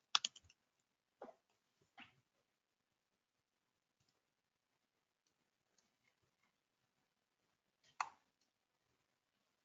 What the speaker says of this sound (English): I actually literally have to type that in manually.